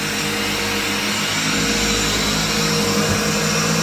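A vacuum cleaner runs steadily with its brush working over carpet during an end-of-tenancy clean, a loud continuous motor whine and hum that holds even throughout, close by with no talk.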